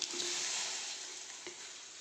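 Mushrooms boil in a wok, giving off a steady, even hiss that holds at a moderate level throughout with no talking.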